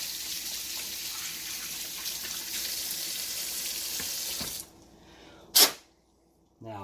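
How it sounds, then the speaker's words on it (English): Hot water gushes steadily from a tap while an RC car, a Traxxas X-Maxx, is flushed clean, a loud hissing stream that cuts off abruptly, followed by a brief sharp splash and near silence. "A little bit of hot water."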